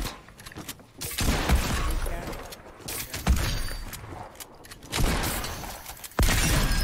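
Gunfire in a Fortnite duo match, a few loud broadband shots and bursts around one, three, five and six seconds over a busy game soundscape, with little talk.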